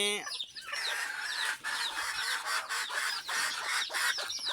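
A flock of native (deshi) hens and small chicks fills the space with a dense, continuous chorus of high peeps and chirps, with clucks mixed in, close by and with no voices.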